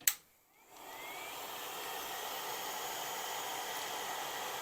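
A heat gun blows hot air onto a plastic model-aircraft canopy, a Guillow's Spitfire T.IX two-seat conversion: after a sharp click it starts up into a steady, even airy whoosh that holds close and constant.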